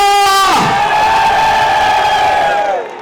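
A concert crowd cheers and shouts loudly and continuously, a roaring, steady wall of voices after a brief sustained tone at the start, fading slightly at the end.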